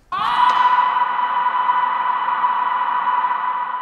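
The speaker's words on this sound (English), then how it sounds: "I used this trick on the sound of Jonny screaming" A screamed voice sample is frozen with reverb into one long sustained note, a sudden loud onset that holds as a steady, slightly fading tone for several seconds.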